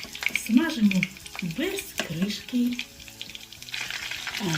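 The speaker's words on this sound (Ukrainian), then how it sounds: "наливаємо достатньо олії і смажимо котлети на середньому вогні" Oil sizzles and crackles steadily as meat cutlets fry on medium heat in a pan, with occasional clinks and scraping of a utensil close by.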